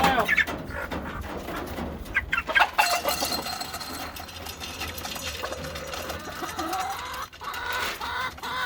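Chickens resembling Rhode Island Reds cluck and murmur around a farmyard in fall, scattered calls over a constant low hum, moderately close.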